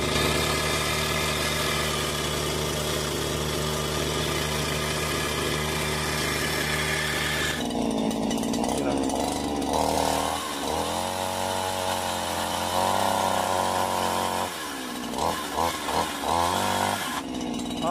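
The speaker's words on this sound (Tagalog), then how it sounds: "chainsaw attachment po siya na kinakabit po natin sa" A chainsaw attachment fitted to a grass cutter runs with a loud, steady engine drone that shifts pitch and revs partway through, close and continuous, with no talking.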